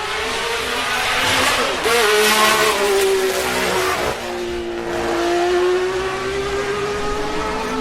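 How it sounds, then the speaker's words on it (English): Richie Ginther's Honda race car roars past at close range, its high-pitched engine note rising loudly then sliding lower as it goes by, with a steady engine wail through the whole pass. "Here comes Richie Ginther's Honda."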